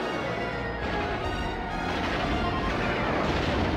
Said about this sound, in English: Fire another missile. Ooh, that got him.